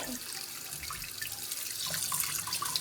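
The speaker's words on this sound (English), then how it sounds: "I keep my water running because they can be rinsed off at the same time." Kitchen tap water runs steadily into a sink while pork neck bones are rinsed, a close, continuous splashing hiss with small irregular splatters throughout.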